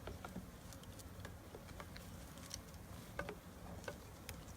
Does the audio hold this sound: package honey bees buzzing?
yes